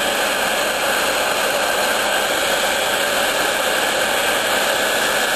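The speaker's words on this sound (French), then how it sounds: "Mon décapeur et c'est parti." A heat gun blasting hot air while drying a repaired motorcycle crankcase, a loud steady roaring hiss that stays constant throughout, close by, with no talking.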